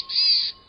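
One clear, high boreal chickadee call rings out alone for under half a second against a quiet background.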